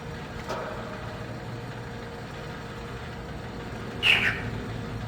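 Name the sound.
chirpy frog sound from the video game Riven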